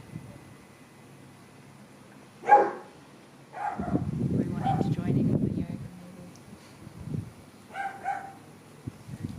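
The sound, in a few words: dogs barking in the neighbourhood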